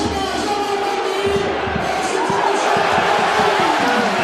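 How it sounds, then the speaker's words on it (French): A rugby league stadium crowd at a Catalans versus Bradford match applauds and cheers a player coming on, a loud, broad roar with scattered claps beneath it. "écoutez, ces applaudissements pour Jamal Fakir qui rentre"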